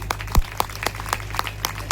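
Sparse, evenly spaced hand claps from a small church congregation during a Telugu sermon, a handful of separate slaps over a faint steady hum.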